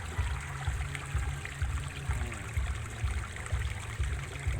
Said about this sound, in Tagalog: tubig na umaagos galing sa mga drainage nila